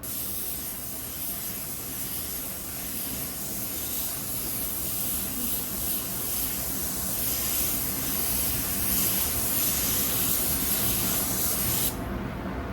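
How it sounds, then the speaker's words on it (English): A spray gun lays a coat of clear over a custom-painted car, producing a continuous close airy hiss that holds steady for the whole stretch and breaks off briefly near the end. "We're gonna throw 1 coat of clear on this thing."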